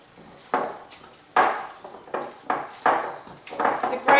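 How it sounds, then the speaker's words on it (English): A spoon scrapes and knocks repeatedly around a bowl as an oat-based chocolate banana and date cake mix is stirred, with a steady rhythm of close, clattering strokes about every half second. "So I'm just stirring this round now"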